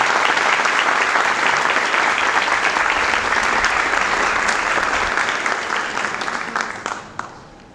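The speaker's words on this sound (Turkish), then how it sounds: "Şimdi ailelerimizi onlara teşekkür etmek için çılgınca bir alkışlayalım." An audience at a medical school white coat ceremony claps enthusiastically in dense, sustained applause that gradually fades out toward the end.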